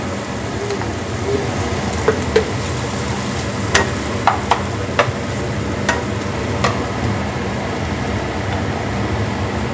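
Ginger fries in a pan with tomato puree for home-style egg biryani, giving a steady sizzle throughout with a few sharp clicks and scrapes as it is stirred.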